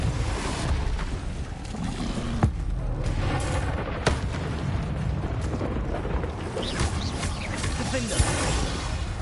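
Spell blasts such as Confringo and Depulsor in the video game Hogwarts Legacy, several sharp booms and impacts over a rumbling battle bed, with a voice speaking over them.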